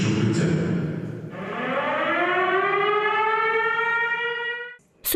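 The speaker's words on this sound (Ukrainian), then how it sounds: "Увага! Повітряна тривога." An air-raid siren from a school alert system in a Vinnytsia school wails loudly, rising in pitch and holding a long sustained tone before cutting off abruptly.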